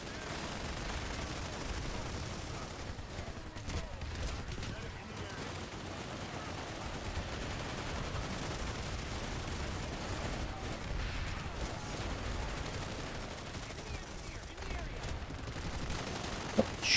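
Steady, dense video-game gunfire fills the whole stretch, a continuous volley of shots at close range in a combat firefight, with faint voices underneath.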